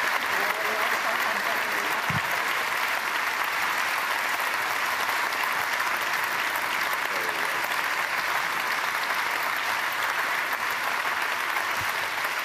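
Sustained audience applause fills an award ceremony hall, a dense, steady wash of clapping from many hands, loud and continuous throughout with no break.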